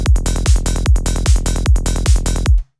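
909 drum machine groove with processed closed hi-hats and snare, a steady looping pattern of punchy low hits and crisp bright ticks, loud and close, cutting off cleanly at the end.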